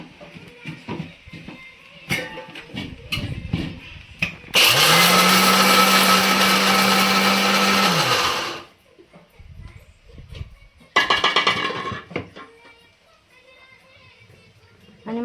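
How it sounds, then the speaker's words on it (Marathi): A mixer grinder grinds sabudana fine in a loud continuous whir lasting about four seconds, then a second shorter burst follows, with talking and household noises around it. "ह्यांच्या खिचडीमध्ये साबुदाणा खूप बारीक करावा लागतो मला."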